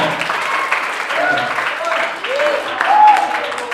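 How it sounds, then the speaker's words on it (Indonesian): An audience at a motivational seminar claps in a moderate, uneven burst, with someone talking over the applause throughout. "terima kasih, tepuk tangan buat anda semuanya"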